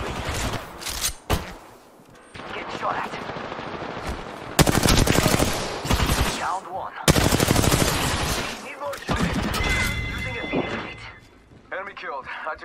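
Rapid automatic gunfire in the Apex Legends video game, loud close bursts of machine-gun fire broken by short pauses, with people talking over and between the shots.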